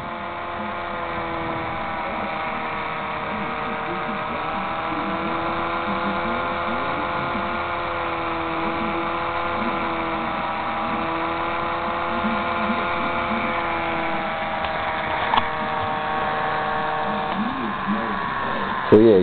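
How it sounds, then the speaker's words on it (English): A small homemade pulse motor driving bulbs while charging a 12-volt battery gives a steady electric whine with stacked tones, its pitch slowly climbing as it speeds up, running continuously with a faint click near the end. "Motor goes faster."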